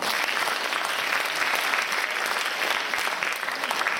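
A theatre audience claps steadily for a special guest at the opening of a Yue opera performance by a Singapore troupe, sustained full-house applause, loud and even throughout.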